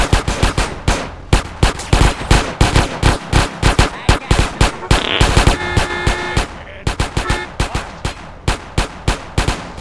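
Rapid bursts of automatic gunfire and single shots in GTA San Andreas crack loudly and repeatedly, in rhythmic volleys with brief gaps.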